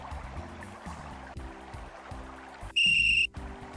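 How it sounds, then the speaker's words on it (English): A magic whistle in the Simon the Sorcerer adventure game gives one loud, steady, shrill blast lasting about half a second, cutting in over a looping synthesized background melody. "It's a magic whistle."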